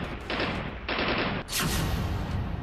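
Automatic and small-arms gunfire along the Line of Control in Poonch, heard as faint, distant sustained bursts of rapid shots in several waves, with no voices.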